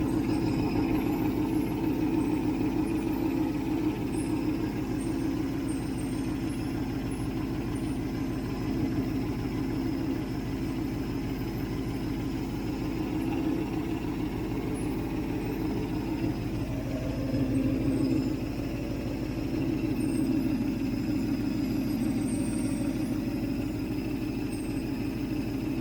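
A Ford 390 V8 runs steadily in a 1967 Mustang with a continuous low rumble. The tone shifts briefly partway through and then settles back into the same even running, with no voices.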